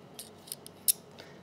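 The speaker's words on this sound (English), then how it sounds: "And then finally we have the scissors." Spring-loaded scissors on a Gerber MP400 compact sport multi-tool make a handful of crisp, close snips, short sharp clicks spaced irregularly with one louder cut, over near silence.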